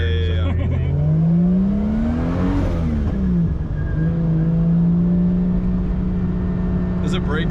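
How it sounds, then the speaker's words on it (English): A 2JZ-swapped BMW E36 accelerates hard under full boost, its engine tone climbing loud and close with turbo spool and wastegate noise, while voices seem to murmur faintly beneath the engine. "So full boost, it sounds like just sick turbo noises"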